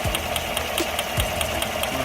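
A defective GM 5.3-liter V8 engine runs with a steady, fast rhythmic knock and ticking over a constant loud mechanical hum, heard close with no talking.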